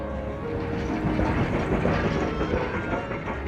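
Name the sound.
goods train with wagons running on rails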